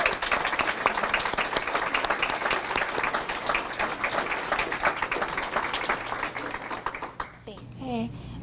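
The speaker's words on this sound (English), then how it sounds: "Let's give them a round of applause." An audience at a radiologic technology pinning ceremony applauds the graduates' families with dense, steady clapping for several seconds. Near the end a voice sounds over the fading applause.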